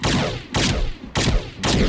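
Musket fired repeatedly in Fallout 4: four loud, booming shots in quick succession, each a sharp blast followed by a short rumbling tail.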